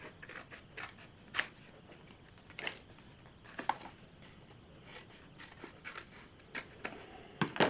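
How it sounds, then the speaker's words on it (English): Scissors snip through paper and card tag material for junk journal crafting, a series of sharp, irregular clicks and cuts, close and fairly quiet. "I'll use my scissors and cut these off"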